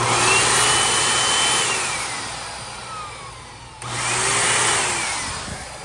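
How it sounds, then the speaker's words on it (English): A vacuum cleaner motor, mounted horizontally, whines steadily while the machine spins around on the floor, its pitch swelling and sagging in slow sweeps, with a brief dip and restart near the end. "I guess I just found out that this vacuum can actually dance."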